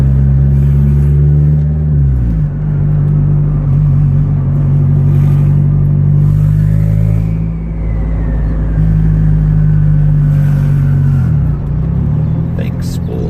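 A turbocharged 1993 Honda Civic EG drones loudly up close, its engine note dropping and rising again, with a faint rising whistle of the turbo spooling and a voice murmuring over it.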